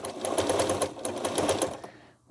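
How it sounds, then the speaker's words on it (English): A sewing machine being used to spin raw wool runs in fast, rhythmic stitching bursts, close and fairly loud, then cuts off near the end. "see what I'm doing to this sewing machine"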